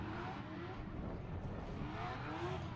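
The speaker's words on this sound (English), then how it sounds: "As Charles Ng, maximum attack, Achilles radial, supercharged V8 G37." A supercharged V8 Infiniti G37 drift car runs at a Formula D event, a continuous faint distant engine roar with tire noise, steady and without pauses.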